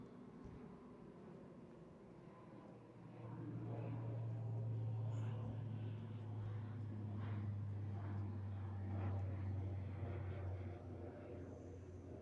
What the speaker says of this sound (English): Watch out for low-flying aircraft.